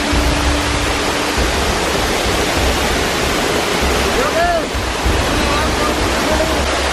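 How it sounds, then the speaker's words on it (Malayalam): A forest waterfall roars in a steady, loud, broadband wash of falling water that fills the scene continuously, with no voices over it. "അപ്പൊ ഇനി ഞാൻ കുളിക്കാൻ വേണ്ടിയിട്ട് പോവുകയാണ് വെള്ളച്ചാട്ടത്തിൻ്റെ താഴെയുള്ള അടിപൊളി കുളി"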